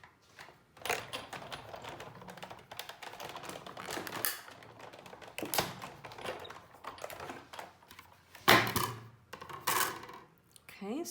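A craft cutting machine feeds a sticker sheet through, giving busy, rattling mechanical clicks and taps for about eleven seconds, close and fairly loud, with a few sharper clacks near the end.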